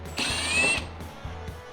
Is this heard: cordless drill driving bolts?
yes